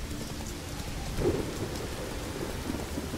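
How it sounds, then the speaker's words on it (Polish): Steady hiss of falling rain with a soft low rumble of thunder in the video game The Witcher 3: Wild Hunt, continuous and even, no voices. "Na razie to pada deszcz. A znowu ten deszcz pada"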